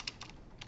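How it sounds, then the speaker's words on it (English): Java code being typed on a computer keyboard during a programming lecture, a few quiet, sparse key clicks in quick succession, close and faint. "I am going to type this into our code."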